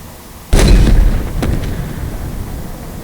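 A single deep, booming tank gun blast from Halo Infinite hits hard and close, followed by a rumbling tail and a fainter secondary pop as it fades.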